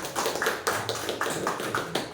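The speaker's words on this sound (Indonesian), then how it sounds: "Kami tepuk tangan dulu" A group in an elementary school setting claps in quick, sharp, evenly spaced slaps, fairly close and without talk.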